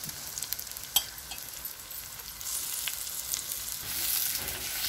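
Onion and green chili sauté in oil with a soft, steady sizzle, fairly quiet, with a few light clicks of stirring and the hiss swelling slightly toward the end.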